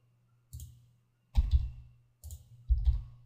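Computer keyboard typing, four separate bursts of quick clicking keystrokes with short pauses between them, close and clear over a faint low hum.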